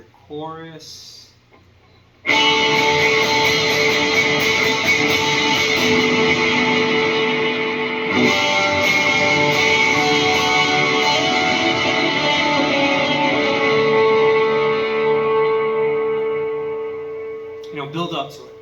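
Sustained electric guitar tone thick with delay repeats and chorus shimmer, swelling in after a brief quiet start and ringing on steadily before fading out near the end, in a post-rock ambient setting.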